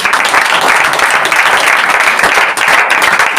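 An audience at a pastor's church prayer gathering bursts into loud, dense, sustained applause, many hands clapping continuously and close with no speech over it.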